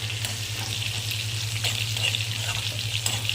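Green chilies and curry leaves fry in hot tempering oil for dhokla, producing a continuous, even sizzle with faint crackles and no voices.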